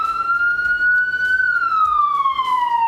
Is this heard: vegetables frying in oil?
no